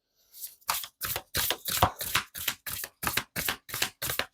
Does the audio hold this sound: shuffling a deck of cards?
yes